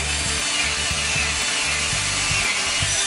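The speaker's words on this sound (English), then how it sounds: "Gonna drill a 3/8 pilot for these 1/2 inch by 2 inch lag bolts" A drill bores a 3/8 inch pilot hole into wood for 1/2 by 2 inch lag bolts on a farm table's X legs, a steady loud grinding whir with pulsing low-end chatter throughout, no voices.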